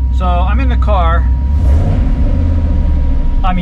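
Cobra Daytona replica engine with a newly fitted exhaust, heard from inside the car as a steady low rumble that swells briefly into a revving surge, with someone talking over the start and end.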